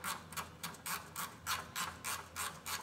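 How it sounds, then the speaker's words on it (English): A ratcheting wrench tightens engine bolts on a Mustang. It gives a close, loud run of rapid clicking bursts in a steady back-and-forth rhythm, with no speech. "we'll use a ratcheting wrench on this one because I was too lazy to go get a shallow socket"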